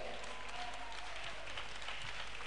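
A church congregation clapping steadily together, a sustained wash of applause at moderate distance with no pauses.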